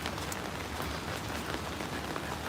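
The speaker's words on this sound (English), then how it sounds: "This rainy and cloudy day in St. Petersburg, going to black and white 2D place." Steady rain falls on a cloudy day in St Petersburg, Russia, an even, unbroken hiss of drops with no voices.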